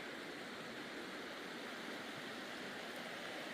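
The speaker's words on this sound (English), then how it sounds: "You can hear the sound of the water here at camp." Steady rushing water flows continuously near a campsite, a broad even roar like a nearby stream, with nothing else standing out.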